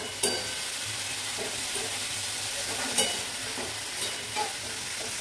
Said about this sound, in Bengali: চলো দুটো কড়াইয়ে বসিয়ে দিয়েছি খুব তাড়াতাড়ি হয়ে যাবে বলে, এটা দিয়েছি ঝিঙে আলু পোস্ত দিয়েছি, এটা শাক দিয়েছি